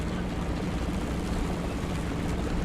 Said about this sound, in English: Oh, there's a chopper up.